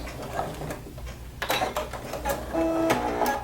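A sewing machine stitches a long straight seam, with quick clicking mechanical bursts and a brief whirring run toward the end, heard close up.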